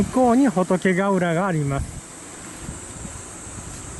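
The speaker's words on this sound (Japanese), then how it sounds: "蝉が鳴いてるんです。" Cicadas singing along a coastal road near Hotokegaura in Aomori, Japan, a faint steady high buzz that sits under a man's speech for the first two seconds and then continues alone with low rumbling in the background.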